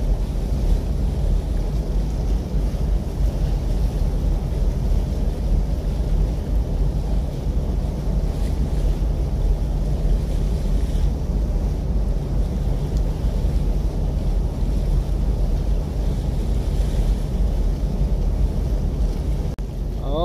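The MV LBN 6 berths at a jetty with two assist tugs, heard as a steady low rumble of ship engines mixed with wind buffeting and water, continuous and unbroken throughout without voices.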